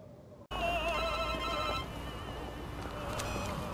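A telephone rings indoors, a steady electronic bell-like ring starting abruptly and continuing at moderate loudness with no talk.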